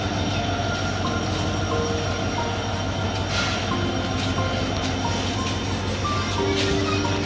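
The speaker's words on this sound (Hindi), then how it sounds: "देख सकते हो भाई कटिहार में किस तरीके से ट्रेन पास हो रही है।" A train rolls through Katihar Junction station with a loud, continuous rumble of wheels on rail, faint squeals and clatter layered over the steady roar, close by and unbroken.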